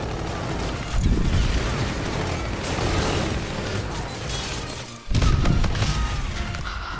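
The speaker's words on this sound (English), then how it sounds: "Oh, what a grenade kill. I just bounced right in." Grenade explosions and gunfire in the Call of Duty video game, with dense booming and rattling blasts, a brief dip, then another loud burst of explosion noise.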